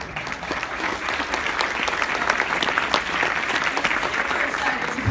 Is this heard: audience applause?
yes